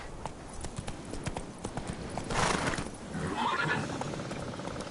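Horse galloping in The Witcher 3, a steady drumming of hooves running throughout, moderately loud, with a whinny-like burst partway through and a faint voice briefly in the background.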